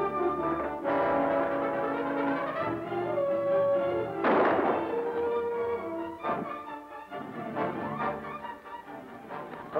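Gunshots ring out in a 1946 western, Stagecoach to Denver: several sharp cracks and booms spaced apart over a dramatic orchestral score, with no dialogue.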